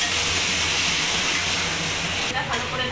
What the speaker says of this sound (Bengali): এবার চিকেনটা দিয়ে মশলাটা ভালো করে নাড়িয়ে নেব।